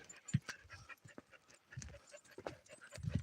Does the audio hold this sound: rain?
no